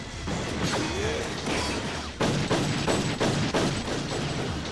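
Gunfire from the anime Cowboy Bebop, a burst of sharp shots and impacts with clattering mechanical noise, loud and close, some blasts running together.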